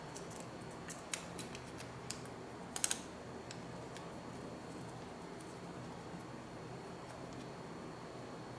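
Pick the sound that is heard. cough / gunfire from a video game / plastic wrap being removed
plastic wrap being removed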